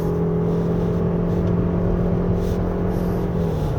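A 2023 Toyota RAV4 Hybrid AWD engine pulls under acceleration on a winding road, a steady droning hum with a rising tone heard from inside the cabin, loud and continuous without talk.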